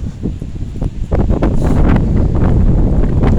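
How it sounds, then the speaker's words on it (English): Strong wind roars and buffets the microphone in the Geyser Chapel Cemetery, a loud, continuous low rumble with gusts that swell and stay heavy throughout, with no voices. "Block the wind."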